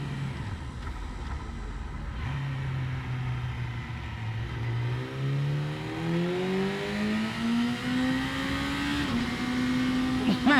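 A 2018 Yamaha R6 sport motorcycle with a quick shifter accelerates hard from the rider's position, engine pitch climbing in a long rising whine with brief drops at upshifts, under steady wind rush.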